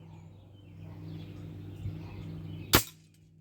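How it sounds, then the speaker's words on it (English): An animal trap fires and its jaws snap shut with a single sharp, loud metallic crack near the end, after a faint soft click and a low steady hum, up close. "When the trap fired, I took my thumb off."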